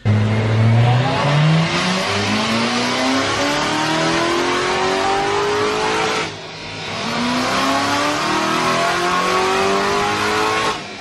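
Corvette C7 exhaust with a titanium double X pipe revving hard, rising through the gears twice with a raspy, crisp tone, loud and close with no talk.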